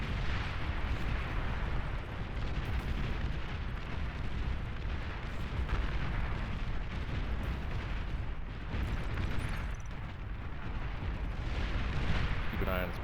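Dense, continuous rumbling explosions and artillery-like booms fill a strategy game battle as amphibious tanks attack and destroy a T2 factory, steady and loud throughout with no pauses.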